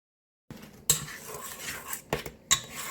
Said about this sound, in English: let's stir in our flour for our last ingredient